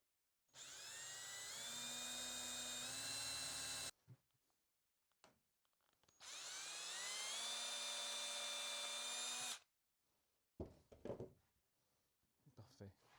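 A drill screws parts of a wooden lamp together in two long, loud whining bursts whose pitch rises as the screws drive in, followed by quieter knocks and handling noises.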